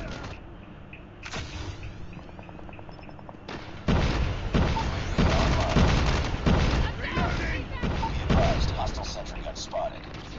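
Grenade launcher explosions in the shooter Call of Duty Mobile: a dense, loud run of booming blasts and gunfire that builds after a quieter start, with a voice talking now and then.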